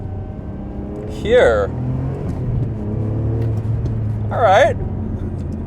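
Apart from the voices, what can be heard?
Ferrari 575M engine accelerating through gear shifts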